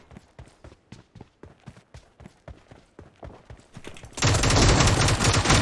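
Rapid gunfire from PUBG Mobile, a steady string of sharp close shots that ends in a loud sustained blast or burst of noise, with no talk over it.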